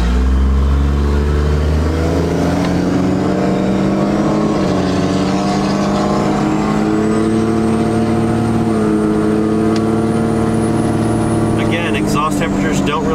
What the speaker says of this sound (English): I love the sound of it. It sounds way, way different. This truck does not sound the same.